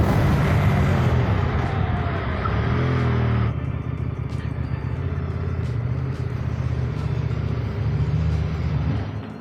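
CFMOTO 800NK motorcycle being ridden, its engine droning steadily with a pitch drop partway through as it downshifts or eases off, heavy wind rumble throughout, no talk.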